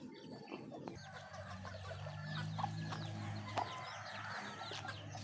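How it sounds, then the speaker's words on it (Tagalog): Hens and chicks cluck and peep softly in a small backyard poultry yard, scattered low calls and faint chirps over a quiet outdoor background. "Ayun na, ang ating mga sisiyo nasa labas na."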